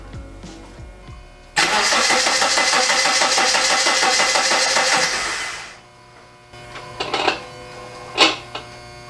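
Subaru engine being cranked after installation, a steady rapid starter churn lasting about four seconds without catching, loud and close, followed by a few short clicks and clunks in a quiet garage.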